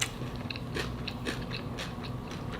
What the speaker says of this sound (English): That fresh celery from my garden, y'all. It's so crunchy and delicious